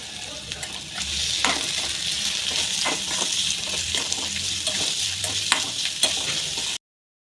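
Onion and curry leaves frying in a pan with cumin, mustard seeds and garlic for ridge gourd chutney, a steady close sizzle broken by sharp stirring scrapes before cutting off abruptly.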